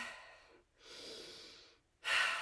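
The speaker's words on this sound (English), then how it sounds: "Have nice big deep breaths." Close, quiet deep breathing during a resistance band balance and core workout: three slow breath sounds, each inhale and exhale swelling and fading, with the last one sharper and louder.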